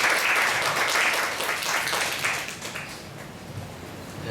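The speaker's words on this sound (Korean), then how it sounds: "박수로 환영해 주세요." A youth retreat audience welcomes a pastor with warm applause, full at first and gradually tapering off.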